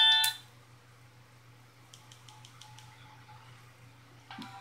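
A cell phone gives a burst of high electronic tones, then a quick series of short evenly spaced beeps before it switches off, with a low steady hum underneath.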